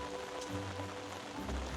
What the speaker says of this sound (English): The rain's just come on heavy again.